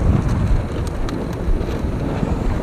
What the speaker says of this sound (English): The wind's cranking.